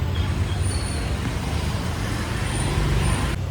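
Street traffic in Dalat, Vietnam: a steady, dense roar of passing vehicles with a few brief high squeals, continuous throughout with no voices.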